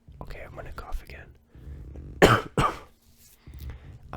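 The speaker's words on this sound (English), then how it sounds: "I'm gonna cough again." Two sharp, loud coughs burst out up close, surrounded by quiet whispered speech before and after.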